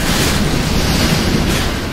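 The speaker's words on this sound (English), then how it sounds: "Can you hear the wind?" A strong 100-kilometre wind blasts across the microphone on a rainy day in Newfoundland, a loud, continuous roaring rush with no voices.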